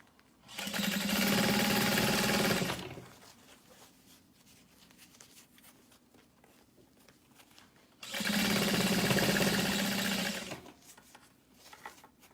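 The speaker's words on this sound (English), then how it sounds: "you are top stitching through the lining" A sewing machine top stitching through a backpack lining runs in two steady bursts of about two to three seconds each, separated by a quiet pause, close and clear.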